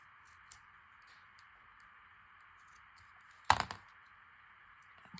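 Scissors snip through die-cut paper frames in a quiet room, giving one sharp, brief cut with a fainter click earlier.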